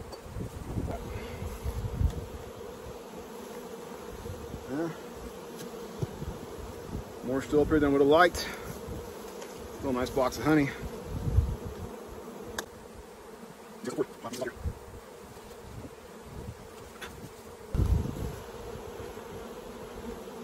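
Honey bees buzz around hive boxes during a honey harvest, a steady close drone with louder swells as bees fly past, while a person talks at times.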